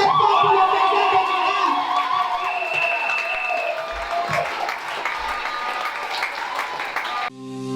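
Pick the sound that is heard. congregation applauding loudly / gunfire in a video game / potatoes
congregation applauding loudly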